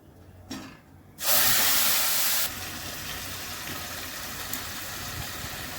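A ginger, garlic, onion and tomato spice paste hits hot oil with cumin and garam masala for a masala fish curry. A loud, bright sizzling burst lasts about a second, then settles into a steady, softer hiss.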